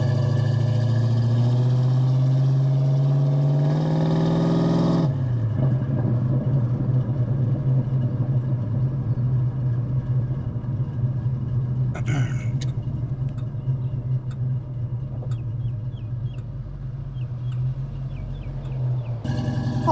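A 1990 Ford Mustang LX Coupe with the 5.0 V8 and AOD automatic revs up, then drops into a steady, low, close rumble while driving, with occasional talking over it.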